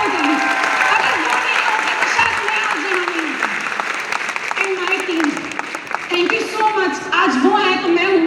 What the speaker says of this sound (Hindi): Mister Shivam Gupta and mister Ishan Sahu, जोरदार तालियां बजाइए।